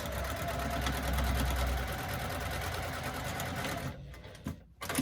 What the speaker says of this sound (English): Second line of stitching.